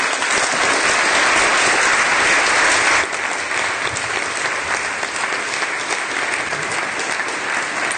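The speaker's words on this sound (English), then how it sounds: "So I'd like to give our panelists a big round of applause." A crowd applauds panelists after a cryptocurrency and blockchain discussion, loud sustained clapping from many hands that eases slightly partway through and carries on steadily.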